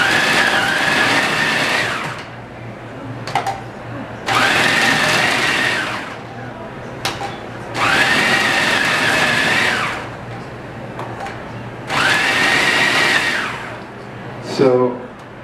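A food processor with an S-blade shreds carrot for raw vegan tacos at a festival food demo, running in four loud whirring bursts of about two seconds each, separated by brief pauses and clunks.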